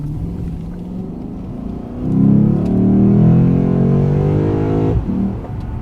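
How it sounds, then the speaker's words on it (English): A Lexus GS F V8 pulls away under hard throttle with traction control cutting in, its engine note rising and swelling mid-clip, then dropping sharply before a steady drone resumes. "we had traction control kicking in there, and then we also had somewhat of this laggy V8 getting up to speed"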